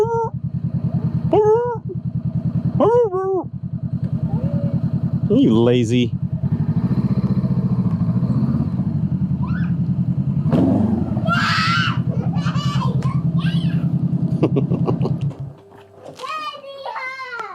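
A motorcycle engine runs steadily at close range for most of the clip while a child and an adult talk over it, then it cuts out near the end.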